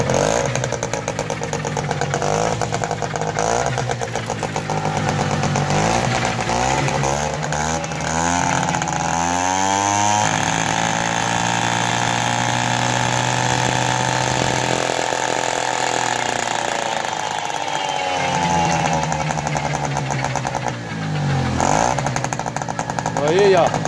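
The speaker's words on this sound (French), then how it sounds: "Il ne tient pas trop le ralenti, vous allez voir. Mais il démarre au quart de tour." A Piaggio Ciao moped engine runs close by with a raspy buzzing two-stroke note that rises and sags unevenly as the idle struggles to hold steady.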